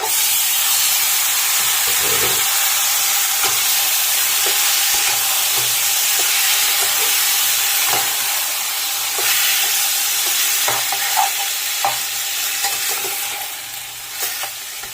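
Taro greens hiss and sizzle steadily in hot oil after fried ginger paste, with intermittent scrapes and clatters of a spatula stirring the pan throughout, no talking.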